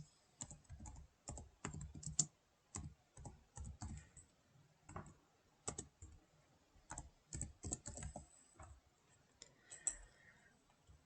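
Keys clatter on a computer keyboard as a slide title is typed, in short uneven bursts of quick clicks separated by brief pauses, close and fairly quiet with no talking.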